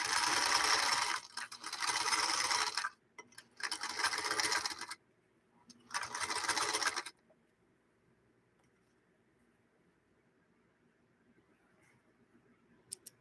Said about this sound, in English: I'm going to do a little bit of reverse sewing on this